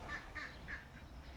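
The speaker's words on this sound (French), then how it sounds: "les poules s'excitent" Several excited hens give short, repeated squawking calls in quick bursts over a steady low rumble, moderately near and fairly faint.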